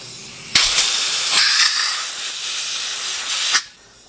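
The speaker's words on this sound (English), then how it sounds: "Yep, good airflow through there now." Air blasts steadily through a freshly cleaned nozzle of a Ryobi driveway cleaner attachment, a loud continuous hiss lasting about three seconds before cutting off abruptly, with no talking.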